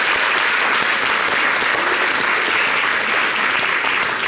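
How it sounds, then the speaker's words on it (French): Loud, continuous applause from a crowd, a dense, even wash of many clapping hands close by, steady throughout with no talk over it. "Ben, ça peut s'applaudir,"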